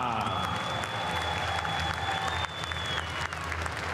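An arena crowd at an MMA fight applauds a fighter, steady dense clapping with crowd noise throughout and a sustained tone lingering over the first part.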